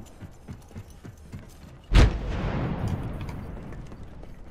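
A frag grenade detonates in Apex Legends with a single loud, sudden boom partway through, followed by a long rumbling tail, after quieter gameplay ambience.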